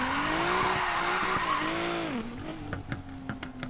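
Infiniti Q60S drift car in Need for Speed Payback, its engine holding a steady high drone through a long loud tire skid, then dropping and revving again with sharp shifts, close and alone.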